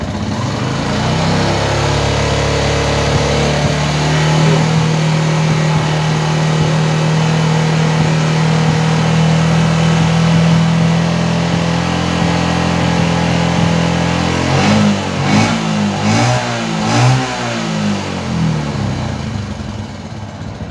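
A Yamaha Jupiter MX motorcycle engine idles steadily, then is revved in several sharp bursts near the end, loud and close in a workshop.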